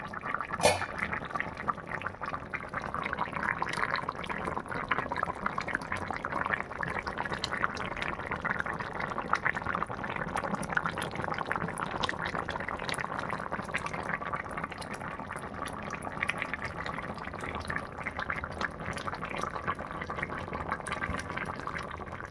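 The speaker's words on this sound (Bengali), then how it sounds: "এবার ঢাকা দিয়ে আমি ফুটতে দেবো" Bata fish curry with eggplant bubbles under a lid in a steady, moderate simmer, a continuous hiss of fine pops and gurgles that stays even throughout with no voices.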